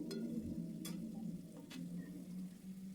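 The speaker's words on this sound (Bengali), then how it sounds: "মশলাটা কিন্তু খুব ভালো করে কষাতে হবে" Masala sautéing in oil that has separated, for a curry with fried eggplant: a faint, steady low sizzle broken by a few short scraping stirs, with no talking.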